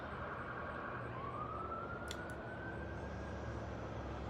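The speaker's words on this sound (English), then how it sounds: "Sirens." Emergency vehicle siren wailing faintly outside, a thin rising and sustained tone over a steady low background rumble, heard at a distance.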